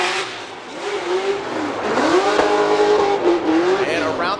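A Nissan Silvia S15 drift car in Formula Drift qualifying at Long Beach: a revving engine rising and falling in pitch with tire noise, fairly loud and continuous, overlaid by a commentator's voice.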